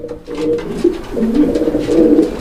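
A male black Beauty pigeon coos up close, a low, throaty rolling call repeating without pause, with no talking.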